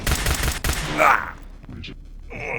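A stun pistol fires in a dense burst of sharp bangs at close range over urgent voices, then a brief electronic tone rings out as the shots die away.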